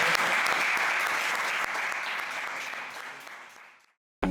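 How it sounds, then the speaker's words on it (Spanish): An audience at a book presentation at the Santa Cruz comic festival claps steadily for several seconds, a dense, close wash of applause that fades out before a brief burst of music at the end. "un aplauso a Pepe"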